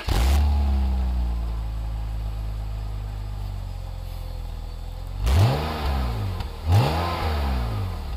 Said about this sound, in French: On va aller écouter ce petit 6 cylindres,